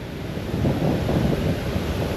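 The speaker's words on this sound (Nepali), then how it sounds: "ल दिस इज त्रिशुली खोला" The Trishuli river rushes beneath a short bridge on the road from Kathmandu toward Langtang, a steady broadband roar of flowing water mixed with wind buffeting the microphone, with no voices.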